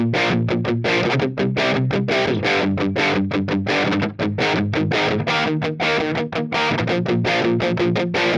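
Electric guitar through a Marshall-style amp tone modeled on a Line 6 Helix, playing a dense, distorted intro rhythm part with steady strummed chords, loud and continuous with no talking.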